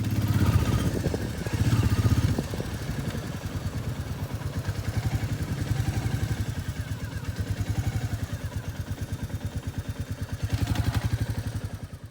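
A motorcycle in first gear with the throttle opened, its engine chugging steadily at close range and swelling louder in two revving bursts, one near the start and one near the end.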